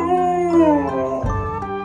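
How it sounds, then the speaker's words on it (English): A dog gives a long, loud, wavering howl up close, its tone sliding and falling, ending with a soft thump. "She was a really happy dog."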